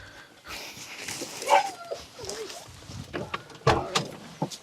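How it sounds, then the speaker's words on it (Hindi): A rescued desi Bully dog from Punjab whimpers and makes soft whining sounds at close range, mixed with scattered handling thumps, rustling and brief faint voices. "ये बुल्ली कुत्ता है, पंजाब का है।"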